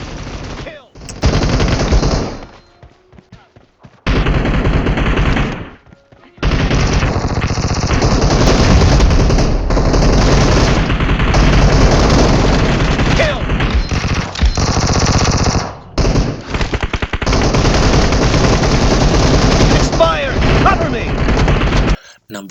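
Rapid automatic gunfire from PUBG Mobile gameplay, loud and close, in long sustained bursts broken by a few short pauses.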